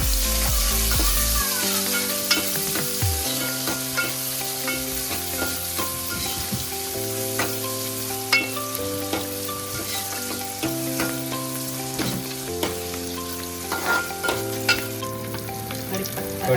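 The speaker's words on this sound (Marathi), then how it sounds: "आता परतून घ्यायचा." Onion and tomato sauté in a hot pan with a loud, continuous sizzle. Repeated stirring scrapes and clinks run over the frying throughout, with no talking.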